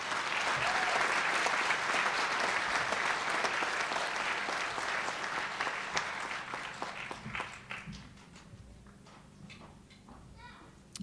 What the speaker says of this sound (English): Let's give Tarika a round of applause